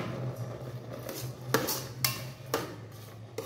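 Vermicelli payasam with jaggery stirred in an electric rice cooker: a spoon scrapes and clinks against the metal pot in a few sharp taps about half a second apart over a low steady hum, with no talking.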